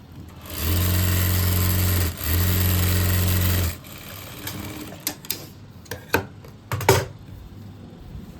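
An electric sewing machine stitches fabric for an Afghani palazzo, running loud and steady in two bursts with a short pause, then stopping and giving way to scattered clicks and handling knocks.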